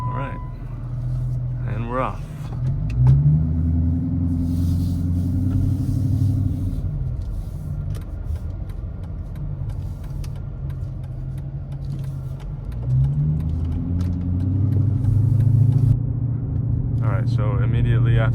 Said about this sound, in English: you can hear the exhaust. It's really loud, but it sounds good.